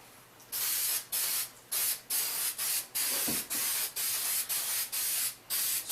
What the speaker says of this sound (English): Keep spraying it.